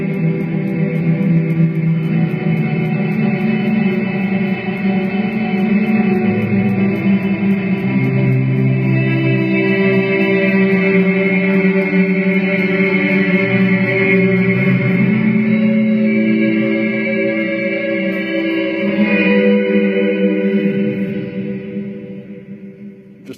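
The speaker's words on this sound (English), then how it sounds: "you simply crank the reverb mix" Sustained guitar chords through a Thumper's Petalberd reverb pedal with the reverb mix cranked swell and ring out in a wide wash, lingering and blending together before fading away at the end.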